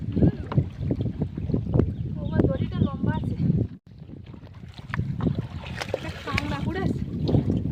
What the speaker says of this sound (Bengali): নৌকা সরে সরে এসে বেড়াচ্ছে।